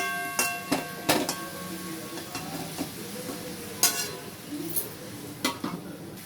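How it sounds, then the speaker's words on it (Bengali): Chicken being stirred and mixed with spices in a pan, with irregular metallic scrapes and clinks of a utensil against the pan over a soft sizzle, close and moderately loud. "ভালো করে মশলার সঙ্গে চিকেনগুলোকে মাখিয়ে নেব"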